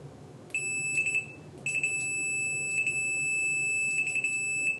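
A Fluke 177/179 multimeter continuity beeper sounds in several loud, piercing high-pitched tones of varying length, repeating in quick bursts against a faint background hiss.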